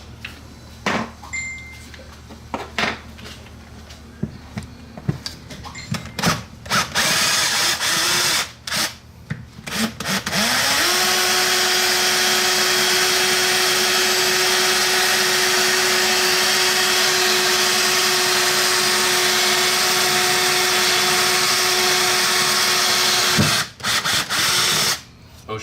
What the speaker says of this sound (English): we're gonna drill all this out so you can fit the quick latch in there